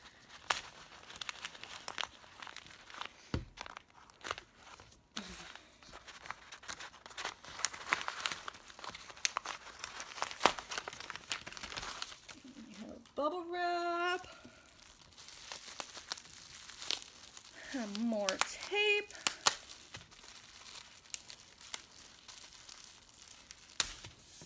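Packing tape peeled from a parcel is crumpled into a ball, close crinkling and crackling rustles running steadily, with a couple of sharper ripping squeals partway through.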